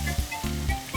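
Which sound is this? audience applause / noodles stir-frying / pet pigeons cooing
noodles stir-frying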